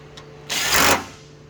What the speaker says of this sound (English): And bolt everything down.